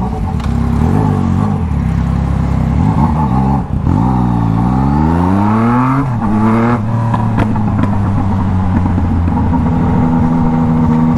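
Yamaha MT-09 motorcycle leaving a workshop after a full service, loud close engine with repeated revs rising and falling through gear changes, a brief drop in the middle, then steady acceleration.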